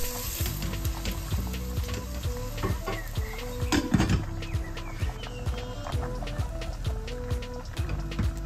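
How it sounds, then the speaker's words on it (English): Onions frying in vegetable oil with curry leaves, crushed garlic and crushed ginger, giving a steady close sizzle with scattered pops and the clink of a stirring utensil throughout. "Into some vegetable oil, fry few curry leaves, saute 2 teaspoons crushed garlic and 1 teaspoon crushed ginger"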